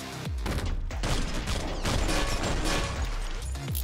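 Rapid bursts of gunfire in the OTXO video game crack loudly and densely over a driving background score, the shots clustering into fast volleys with brief gaps.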